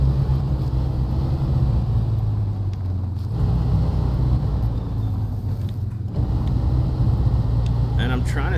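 A truck engine cruising in high gear through SnowRunner terrain, a loud, steady, low droning rumble that holds nearly constant throughout with small shifts in tone.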